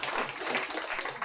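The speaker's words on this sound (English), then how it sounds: "Everyone give him a round of applause." Audience applauding a speaker at an accessible-books talk, a brief burst of dense, fairly quiet clapping that stays even throughout.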